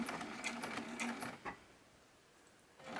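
A sewing machine making a short back stitch on fabric to start a seam for a fabric bin, a quick close burst of rapid mechanical stitching that stops, then briefly resumes.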